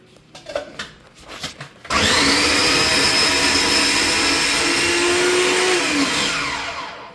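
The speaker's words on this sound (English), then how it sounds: "I'm going to put them through the food processor." Food processor chopping four garlic cloves: a few short knocks and clatters, then the motor whirs up to a loud steady high whine with blades rattling, sustained for several seconds before easing off at the end.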